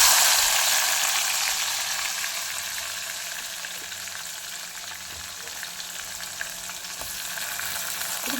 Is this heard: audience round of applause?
no